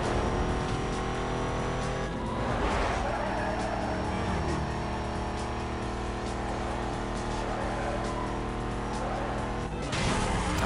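A car in the Need for Speed Most Wanted racing game drives fast, its engine a continuous loud roar with strong tonal harmonics that dips briefly at gear changes.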